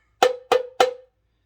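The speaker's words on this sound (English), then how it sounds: "I'm going to hold it up and hit it with all my mallets" Three evenly spaced metallic clanks from a mallet striking a heavy paint can held up in the air, each hit ringing briefly with a bell-like tone, close and clear against silence.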